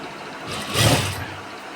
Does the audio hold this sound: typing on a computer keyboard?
no